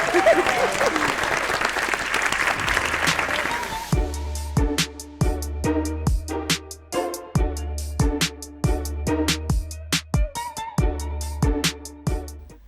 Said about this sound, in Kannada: ಹಾಕಿ ಕ್ಲಾಸ್, ಒಂದು ಚಪ್ಪಾಳೆ